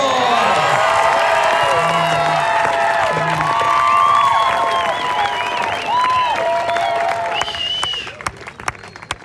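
A crowd at a wakeboard world championship cheers, whoops and applauds loudly and steadily, with children shouting among the roar, before the noise thins into scattered claps near the end.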